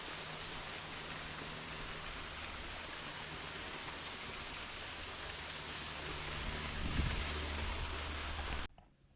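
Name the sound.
waterfall at Rainbow Springs, Florida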